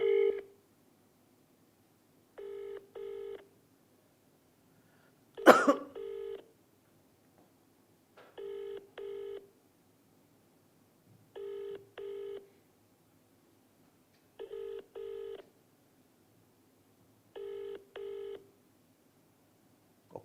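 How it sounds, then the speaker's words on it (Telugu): Paired ringback tones repeat at a steady interval from a phone line, with a brief burst of keypad tones near the start; otherwise quiet. "మెగారెడ్డి ఒక్కసారి ఫోన్ చేద్దాం."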